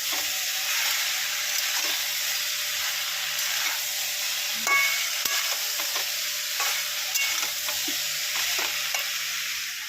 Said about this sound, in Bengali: কপিটাকে নেড়ে নেবো আমি